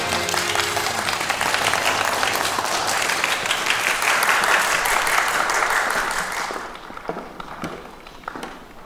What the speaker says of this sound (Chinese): 请大家用热烈的掌声欢迎我们的主评审